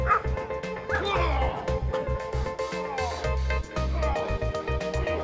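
A police dog barks and yips repeatedly in rapid, loud bursts during a training demonstration, with whimpering between barks and voices talking in the background.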